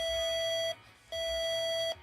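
Emergency Alert System tone beeping twice, each long steady electronic note lasting under a second with a short gap between, loud and alone.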